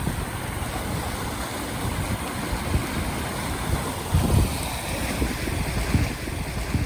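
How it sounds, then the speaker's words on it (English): Continuous rushing floodwater on a flooded farm, a dense broadband roar with gusty surges as it bottlenecks, steady and fairly loud throughout with no voices. "just to give you a sense of how fast this water is moving"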